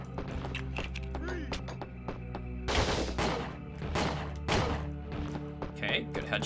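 Gunfire in the video game Winback: Covert Operations, sharp loud shots cracking out in a few bursts over ambient game sound, with a heavier blast near the middle.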